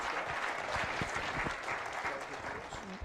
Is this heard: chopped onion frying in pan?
no